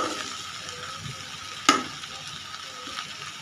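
Bitter gourd frying with onion and green chili as it is stirred: a soft, steady sizzle, broken once by a sharp knock of the spatula against the pan.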